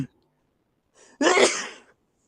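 A single loud sneeze close to the microphone, preceded by a brief faint inhale, followed by silence.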